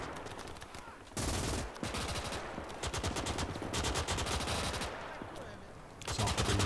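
Machine gun fire in the WWII strategy game Gates of Hell, long rapid rattling bursts that run for seconds at a time, steady and fairly close, with brief pauses between strings of fire.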